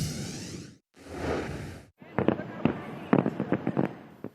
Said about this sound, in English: they was just popping fireworks